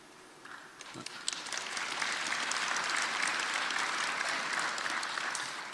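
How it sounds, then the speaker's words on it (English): A crowd breaks into applause during an emotional thank-you speech, starting with a few claps then swelling into sustained, dense clapping that holds steady and loud before easing slightly at the end. "you don't have to clap every time I cry"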